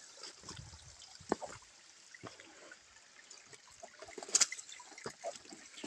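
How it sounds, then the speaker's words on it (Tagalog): A small forest stream trickling and dribbling nearby, faint and uneven with scattered little splashes and drips. "Kahit maliit lang na ilog ito mga kaludi, sapa ang tawag."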